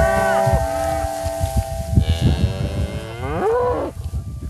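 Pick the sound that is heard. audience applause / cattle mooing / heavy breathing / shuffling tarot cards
cattle mooing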